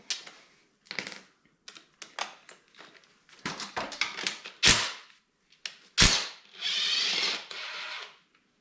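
Bolts come off an Arctic Cat M8 snowmobile skid with a 14 millimeter wrench as a series of sharp metallic clinks, ratcheting clicks and loose parts rattling, close and irregular, with brief louder knocks and no talk.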